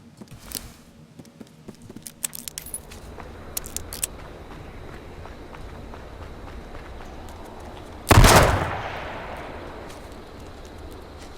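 One loud, sharp Magnum revolver gunshot bursts out near the end of H1Z1 Battle Royale gameplay, following a stretch of low ambient noise and scattered faint clicks.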